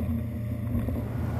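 Marine engine of a Formenti ZAR 57 Welldeck boat running at speed, a steady low drone with hull and wind noise, continuous and fairly close with no talking.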